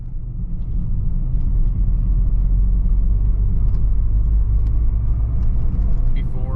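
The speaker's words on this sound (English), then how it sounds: "I'm gonna go take it around the block, and we'll see if we still have a misfire." A car driven around the block while checking for an engine misfire, heard from inside as a loud, steady low rumble of engine and road noise that continues throughout.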